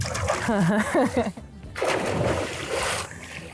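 A person splashes into the cold Nile river for a swim, with loud sloshing and churning water up close while voices shout and talk over it.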